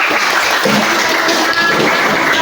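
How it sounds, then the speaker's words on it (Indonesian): A classroom of children applauding winning groups during a coding lesson, a loud, continuous wash of clapping close by with no break. "Tepuk tangan dulu buat pemenang."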